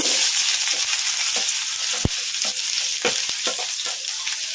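Chopped onions hitting hot oil already crackling with mustard seeds and cumin, a loud continuous sizzle broken by sharp spatula scrapes and clinks against the pan, no talking.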